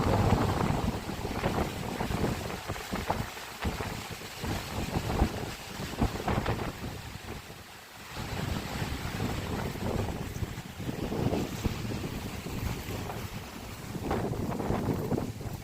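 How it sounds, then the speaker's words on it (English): Strong wind blows steadily outdoors under a darkening sky, a constant loud roar with gusting swells and microphone buffeting, no voices. "Love how this wind up there is such a sound."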